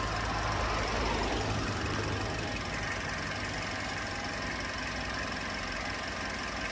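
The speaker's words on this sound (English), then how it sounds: "Lovely quiet little engine." The small 1.3-litre engine of a 2012 Toyota Yaris SR idles steadily close by, a soft even ticking hum that holds unchanged throughout with no voices.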